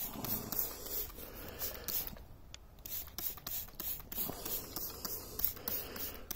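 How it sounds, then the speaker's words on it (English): Short hissing spray bursts repeat at an uneven pace as delphiniums are treated for powdery mildew, alongside faint mechanical clicks and rubbing, close by with no talking. "and then just basically spray each plant"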